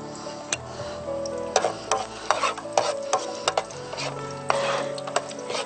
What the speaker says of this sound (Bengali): এখন তেলটা গরম হয়ে গিয়েছে, প্রথমে আমি রসুন দিলাম